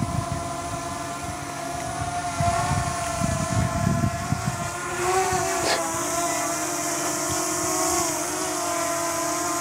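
Potensic Atom SE mini drone under 250 grams coming in to land, a steady high-pitched propeller whine with wavering tones and some wind buffeting on the microphone.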